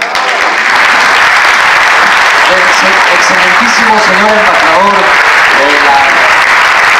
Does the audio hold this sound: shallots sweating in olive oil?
no